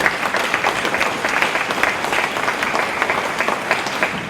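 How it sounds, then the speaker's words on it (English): At a school assembly for Reconciliation Day, a hall full of pupils and staff claps in a dense, continuous round of applause that stays at a steady, moderately loud level without talk. "We should give them a clap."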